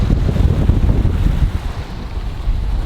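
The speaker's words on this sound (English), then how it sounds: "The wind is doing 18 knots and we've got full sail up going downwind" Strong 18-knot wind roars over a sailboat running downwind under full sail at about 8 knots, a loud continuous buffeting rush with water noise beneath and no voices.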